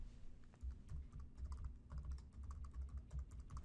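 Rapid, irregular keystrokes on a computer keyboard entering a recipe name, close and quiet, with no one talking.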